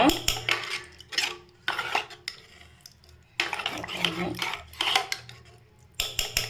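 A spoon scraping and clanking around a pot of green gram porridge as coconut is mixed in, in repeated bursts of metallic stirring with short pauses, close and without talk.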